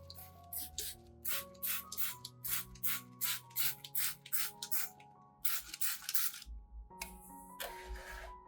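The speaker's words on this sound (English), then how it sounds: "put the mixture into a spray bottle and mist the whole plant once a month" A hand spray bottle mists an orchid plant, giving a quick series of short, crisp hissing puffs in an uneven rhythm, close and distinct, with faint clicks of the trigger between sprays.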